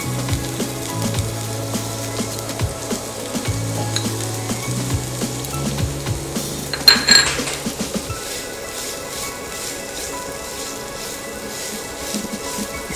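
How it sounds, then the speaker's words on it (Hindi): Chopped onion sautés in a pan for a moong dal pizza topping, with a steady sizzle, intermittent stirring scrapes and a brief clatter midway, heard close and alone. "थोड़ा सा सॉटे होने के बाद इसमें अनियन ऐड कर देंगे"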